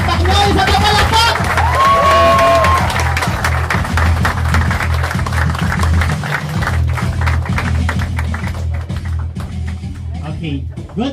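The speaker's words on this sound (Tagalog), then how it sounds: "isa na palakpak!" Loud applause and cheering from a large crowd at a business presentation event, dense clapping with whoops sustained throughout, close and full, with voices shouting over it.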